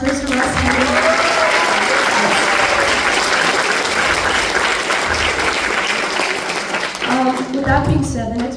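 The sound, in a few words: audience applause at a school band concert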